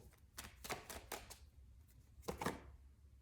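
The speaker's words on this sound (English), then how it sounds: "No, wait. One more shuffle." Several quick papery riffles of tarot cards being shuffled, close and fairly quiet, in short bursts with brief pauses between.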